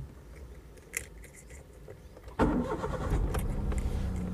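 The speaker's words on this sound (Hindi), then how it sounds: "तो आप देखेंगे गाड़ी स्टार्ट हो चुकी है।" Ignition and engine start of a car: several faint clicks, then a sudden cranking catch at mid-clip settling into a steady idle rumble, close and fairly quiet, no talking.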